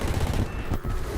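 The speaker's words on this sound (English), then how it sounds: "Now let's try the cannon" An aircraft cannon fires in War Thunder during a test flight on the development server. It is a dense, continuous burst of rapid, loud gunfire lasting just over a second, with no talking over it.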